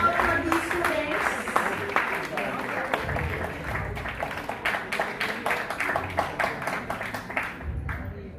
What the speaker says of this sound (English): Round of applause for these students.